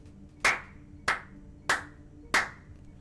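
Four crisp hand claps, evenly spaced about half a second apart, ring out close and alone over a low, quiet background.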